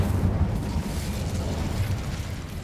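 Incendio fire spell blast in Hogwarts Legacy: a continuous roaring, crackling burst of flame, loud and dense, holding steady for a few seconds.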